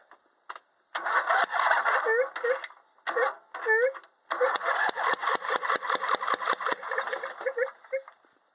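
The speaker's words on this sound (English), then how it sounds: "backfiring out of the carburetor" A Briggs & Stratton OHV small engine runs roughly and backfires out of the carburetor. It sputters in uneven bursts with sharp pops and short gaps, loud and close.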